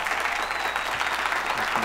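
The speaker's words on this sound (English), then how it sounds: "a round of applause for yourself" Steady applause from a gathered audience at a show, dense and even clapping throughout with faint voices mixed underneath.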